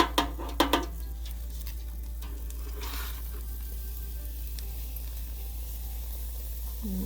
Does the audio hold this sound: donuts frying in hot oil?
yes